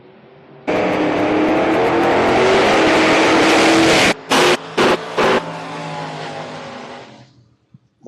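Bracket drag race cars, one of them a Mustang, launch off the line with a sudden roaring burst that holds loud and steady, then stutters through a few sharp cuts and gear changes before fading into the distance.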